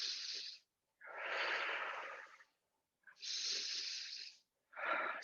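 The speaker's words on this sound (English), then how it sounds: "We've got 3 breaths here." Slow, audible breaths held through a yoga lunge, four long airy inhales and exhales close to the microphone with short silent gaps between them, no talking.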